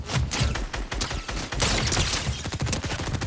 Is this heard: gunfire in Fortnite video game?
yes